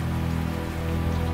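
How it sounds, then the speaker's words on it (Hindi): Heavy rain falls at night as a steady, dense hiss of drops on surfaces, constant and uniform throughout with no voices. "तेज बारिश हो रही थी"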